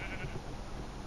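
Minecraft pigs oinking in the background of a video game world, a steady low blur of animal grunts and bleat-like calls running through the whole moment without pause.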